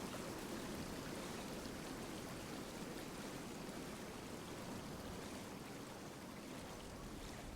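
Waterfall in the video game Tainted Grail: The Fall of Avalon, a soft, steady broadband rush of falling water that runs evenly and unbroken from start to finish.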